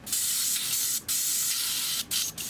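Airbrush spraying water through its nozzle while being cleaned, a steady close hiss in three bursts separated by brief gaps, with no voices.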